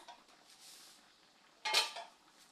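Egg curry with coconut milk stirred in a cooking pot: a soft scrape of a utensil against the pot, then one louder clatter near the end, close and clear with no talking.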